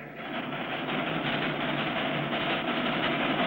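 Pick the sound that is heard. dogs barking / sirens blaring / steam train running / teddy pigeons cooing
steam train running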